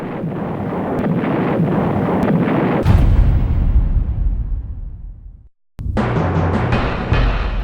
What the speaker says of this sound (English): the Air Force relentlessly bombs the nearest British posts